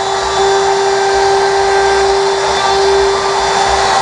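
A Festool router runs steadily while trimming wood for a SOSS hinge installation, a loud continuous whine with a high-pitched tone and no pauses.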